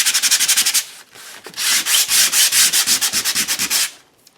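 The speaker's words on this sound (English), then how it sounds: "Now I'm going to bring my sandpaper in and just grunge that just a little bit." Sandpaper rubbed briskly over watercolor paper coated with acrylic paint, rapid rhythmic back-and-forth scratching strokes, close and loud, with a brief pause between two runs.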